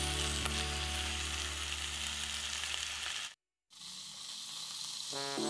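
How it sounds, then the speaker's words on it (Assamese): Cauliflower frying in hot oil, a loud, dense, continuous sizzle close by that drops out briefly, then resumes a little quieter. "ফুলকবিখিনি মই ভাজি থাকোঁতে নিমখখিনি দি দিছোঁ"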